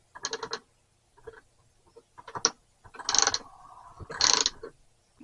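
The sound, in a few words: wrench turning and tightening pipe fitting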